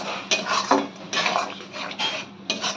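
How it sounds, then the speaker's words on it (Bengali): A spoon clatters and scrapes against a metal pot while spices and onions fry for mutton keema, several sharp stirring strokes at roughly half-second intervals over a light sizzle, close and clear. "মশলাটাকে ভালো করে পেঁয়াজের সঙ্গে কষিয়ে নেব।"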